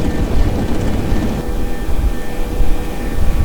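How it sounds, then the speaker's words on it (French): Airbus A318 jet engines roar steadily in the Flight Simulator X game during a takeoff run, a loud, continuous rumbling drone with a broad whine on top and no talking. "j'aurais dû régler un peu le son des moteurs moins fort"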